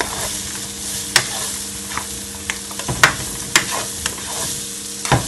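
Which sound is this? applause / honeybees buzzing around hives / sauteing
sauteing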